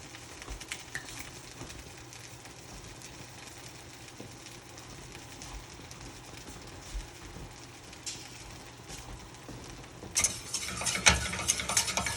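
A whisk stirring beurre blanc sauce in a pan: a soft, steady, close swishing, growing louder and more scratchy near the end.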